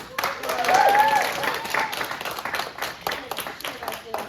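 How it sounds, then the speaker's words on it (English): A workshop audience gives a round of applause, a soft spread of clapping that rises and fades, partly under a voice speaking near the start. "can we give a big round of applause?"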